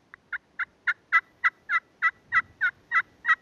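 Rapid, evenly spaced turkey hen yelps from a glass friction call, about a dozen crisp notes in a row, close and alone.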